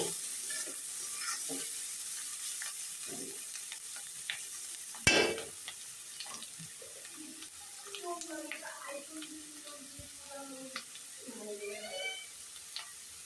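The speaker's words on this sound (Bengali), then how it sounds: "এখন ভালোভাবে নাড়াচাড়া করে ভেজে নেব।" Dima greens with small potatoes and chili powder being stir-fried in a pan; soft, sparse scrapes and light sizzling stay quiet and close, with one sharp clatter midway and faint voice-like sounds near the end.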